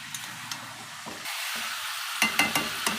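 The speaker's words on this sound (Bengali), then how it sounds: "প্রথমে দেবো এই যে থেতো করা রসুনটা, এটা দিয়ে আগে একটু ভালো করে কষিয়ে নেব" Crushed garlic sautés in a pan for a Bengali curry, a soft steady hiss broken by short pauses, with a few sharp scrapes and taps of a spoon near the end.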